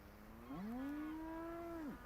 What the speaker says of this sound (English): Did you hear that moo?